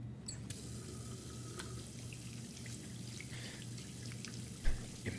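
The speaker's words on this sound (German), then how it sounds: "Immer schön die Hände waschen." A tap runs steadily into a sink while hands are washed in the game Tell Me Why, a continuous soft splashing with a few louder knocks and drips near the end, no voices.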